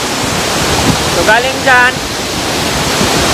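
Lundbreck Falls in Canada pours with a loud, steady rush of water close by, while a person talks briefly over the roar.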